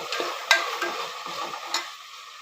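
Chickpeas and vegetables sautéing in a pan for vegetable pulao produce a soft, close sizzle with light stirring clicks and scrapes, fading slightly toward the end.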